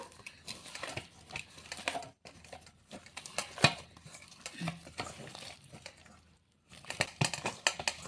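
Tomato chips dough stirred and mixed by hand with a little added oil, giving irregular, close squelching and scraping strokes with brief pauses and no talking.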